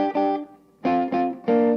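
Short electric instrument phrase of distorted double notes in thirds and fourths, four clipped stabs with a brief pause after the first, loud and close.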